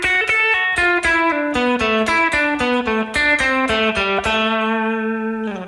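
An electric guitar plays the second half of a country-style shred lick in a boxy pentatonic shape with pull-offs, a quick run of clean, distinct picked notes that ends on a ringing held note, loud and alone.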